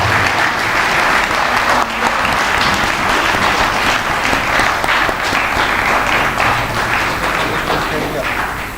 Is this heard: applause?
yes